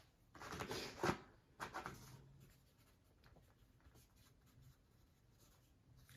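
Notes written by hand, with a few close, soft bursts of pen or pencil scratching on paper early on, then quieter faint scribbling and a light rustle, with no talking.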